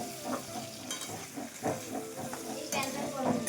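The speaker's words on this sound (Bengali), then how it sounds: "এই যে আমি একটু আলু লেড়ে দিচ্ছি, একটু ভাজা ভাজা হয়ে গেলে" Potatoes fry and sizzle in a pan on a home stove as a utensil stirs them, with repeated scraping strokes over a steady close hiss; faint voices sound in the background.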